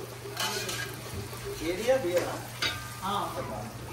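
Mutton being stirred through a gongura gravy in a pan gives uneven scraping and sizzling bursts with clinks of the spoon, close by, while a person talks over it.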